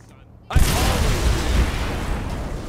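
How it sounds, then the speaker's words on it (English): Grenade blast in Saints Row The Third Remastered: near-silence broken by one sudden loud boom, followed by a long, heavy rumbling decay that keeps roaring to the end. "Okay, grenade."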